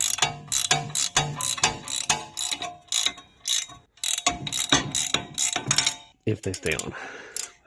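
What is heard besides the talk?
tightening a nut while installing a truck lift kit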